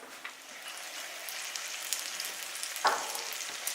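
Oil sizzles and crackles steadily as donuts fry, a continuous bubbling hiss with one brief sharper pop partway through.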